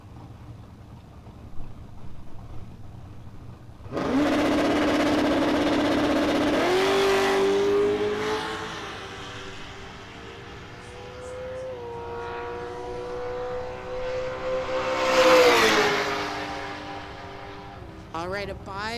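A 1999 Camaro with a 408 LS engine making a solo drag racing pass, the engine roaring up through rising revs with gear changes, loud and close at first then sweeping higher before fading, with an announcer talking over it.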